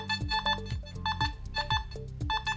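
A rapid series of clean electronic beeps and tones in stepped pitches from a Nokta metal detector, repeating in short bursts over a low pulsing hum, close and fairly loud.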